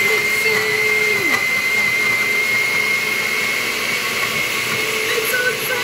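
A blender mixing a smoothie at home, a loud steady motor whine with a slight pitch dip early on, running close and continuously throughout.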